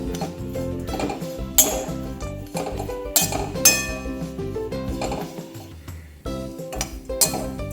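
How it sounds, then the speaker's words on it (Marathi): Grated coconut roasting in a pan while a metal spoon stirs it, repeated clinks and ringing taps of utensil against the pan in an irregular rhythm, close and clear, with no voices. "यामध्ये हे खोबरं भाजून घेऊया"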